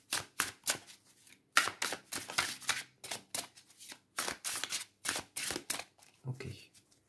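Tarot deck shuffled for a five-card reading, with repeated quick riffling bursts of cards in an irregular rhythm, close and crisp, separated by short pauses and a soft thump.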